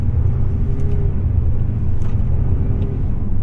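Steady road rumble and engine drone inside a 2023 Toyota Prius Limited, front-wheel drive, driving at about 35 mph through sharp left and right turns, a continuous loud hum with no talking.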